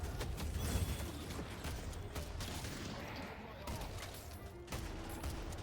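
Rapid gunfire from the Deadlock video game crackles in bursts over a busy, noisy mix, fairly muffled and continuous, with a voice talking over it.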